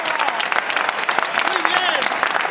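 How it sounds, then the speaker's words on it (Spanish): Spectators in Chiva, Valencia applaud after a mascletà fireworks display, a thick, continuous clapping from a large outdoor crowd with scattered shouts and voices mixed in. "aquí vemos cómo reciben la ovación de todo el público"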